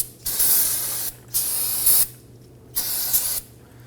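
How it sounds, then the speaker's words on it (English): An aerosol can of solvent sprays down a brake line area on a 2003-2014 Volvo XC90 during brake hose replacement, three loud hissing bursts of about a second each, close up, with short gaps between them. "Now go ahead and grab your can of spray solvent"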